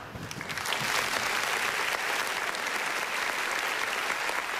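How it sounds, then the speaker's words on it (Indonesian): Loud, sustained applause from a large crowd swells in quickly and continues evenly to the end. "boleh kasih tepuk tangan lagi untuk beliau yang luar biasa"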